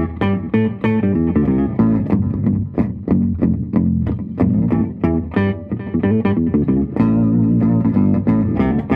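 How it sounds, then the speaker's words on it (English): A guitar through a DV Mark Multiamp octaver effect plays steady picked notes, giving a thick, doubled low tone in a continuous rhythmic line. "Here's an octaver."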